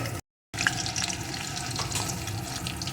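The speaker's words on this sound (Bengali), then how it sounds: "এখন এই তেলের ভিতরে দিয়ে দেবো একটা ক্যাপসিকাম কুচি" Chopped capsicum frying in oil makes a steady crackling sizzle after a brief moment of silence, with faint scattered pops throughout.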